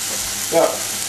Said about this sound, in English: I'm going to cook it off on the grill